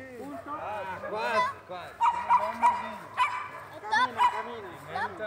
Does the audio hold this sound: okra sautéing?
no